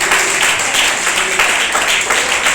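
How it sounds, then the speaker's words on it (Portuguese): A church congregation claps steadily together during a sermon, dense and continuous applause filling the space with a few faint voices beneath. "Bate palmas."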